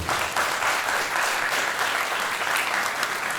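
Sustained audience applause at the end of a drama company's stage performance, a dense, steady wash of many hands clapping throughout with no break.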